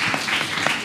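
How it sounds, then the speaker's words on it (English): A crowd at a Japanese speech contest in Kenya applauds, a brief burst of dense clapping that fills the room with a bright, steady patter. "Big round of applause for Martin San."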